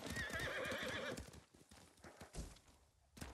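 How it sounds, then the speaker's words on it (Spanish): A horse in the video game Ghost of Tsushima, its hooves clip-clopping in a brisk rhythm, with a loud whinny at the start, heard close and alone. "este caballo está medio loco"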